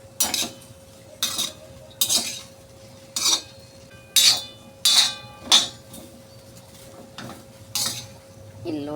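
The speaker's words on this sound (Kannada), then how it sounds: "ಈಗ ಬೆಂಡೆಕಾಯಿನ ಹುರ್ಕೊಂಡು ರೀ ನೀಟಾಗಿ ಹುರಿಬೇಕ್ರಿ" Okra being stirred and fried in a pan, heard as a run of separate metallic scrapes and clinks from a spatula against the pan, roughly one stroke a second, close by over a quiet background.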